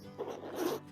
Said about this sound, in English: Let's see how is the zipper. It's pretty smooth.